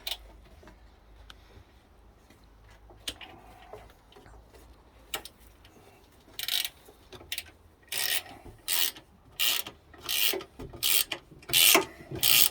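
A 12mm socket set ratchets bolts on a 1950s cast iron garden bench, first with faint clicks, then a regular series of loud rasping ratchet strokes close by.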